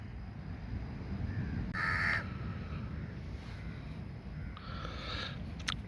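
Crows caw in a few short, raspy bursts at moderate distance over a steady outdoor background of a quiet beach in the morning, with a longer run of calls near the end.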